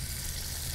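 A seasoned fish fillet frying in two spoonfuls of oil in a pan, giving a steady, dense, close hiss of sizzling oil with no break and no voices.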